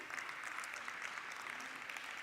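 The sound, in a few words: conference audience applause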